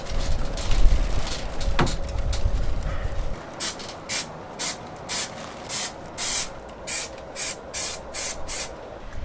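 An aerosol can of Raptor 2K coating sprays under a vehicle's wheel arches, first a loud continuous hiss, then a series of short, evenly spaced bursts.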